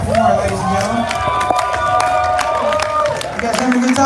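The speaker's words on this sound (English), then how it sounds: "How about another hand for Jeff Warren" A comedy club crowd at The Vixen applauds and cheers for comedian Jeff Warren, a dense, steady wash of clapping and whoops lasting the whole stretch, with voices mixed in throughout.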